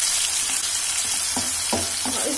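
Tomatoes, red chilli powder and amchur sizzle and fry in a pan for moong dal khichdi while a spoon stirs them, with a steady hiss and a few louder scraping stirs toward the end.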